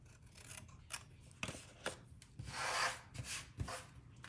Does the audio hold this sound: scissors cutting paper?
yes